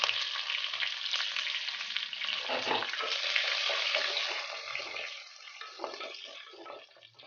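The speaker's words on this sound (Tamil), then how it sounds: "சின்ன வெங்காயம் கட் பண்ணி வச்சுருக்கேன், அதை ஆட் பண்ணி நல்லா வதக்கி எடுத்துக்கலாம்" Chopped shallots sauté in a pan for Pallipalayam chicken with a bright, continuous sizzle and scraping stirs. The frying settles to a softer crackle toward the end.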